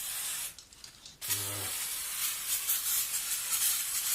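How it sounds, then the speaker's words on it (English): Carby throttle body cleaner sprays onto an engine in two bursts: a short hiss, a brief pause, then a longer, steady, close aerosol hiss. "I'm using Carby throttle body cleaner"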